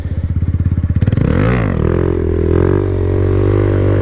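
A motorcycle being ridden on one wheel, its engine thumping in quick, even pulses before surging into a loud, close, sustained rev that rises and holds.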